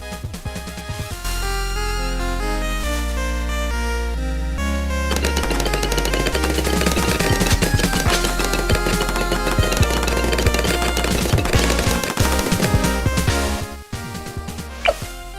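An Overdrive tower fires nonstop in Bloons TD 6, a loud, dense stream of rapid mechanical shots and pops over steady game music that runs unbroken for about fourteen seconds.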